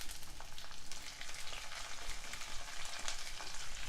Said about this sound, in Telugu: అల్లం వెల్లుల్లి పేస్ట్ కొంచెం పచ్చి వాసన పోయే వరకు వేయించుకోవాలి.